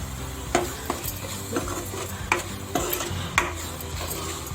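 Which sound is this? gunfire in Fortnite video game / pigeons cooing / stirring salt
stirring salt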